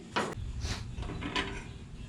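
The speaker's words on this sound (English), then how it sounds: "Man, this ratchets are very powerful." A ratchet wrench turning a bolt while installing camper hold-downs on a Chevy Silverado truck, three close, loud bursts of rapid clicking separated by brief pauses.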